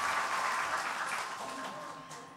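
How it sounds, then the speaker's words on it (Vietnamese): Applause from a quiz show audience cheering on the contestants, a steady dense wash of clapping that holds fairly loud throughout and eases slightly toward the end. "các bạn cổ động viên thân mến hãy dành cho các thí sinh của chúng ta một tràng pháo tay thật lớn"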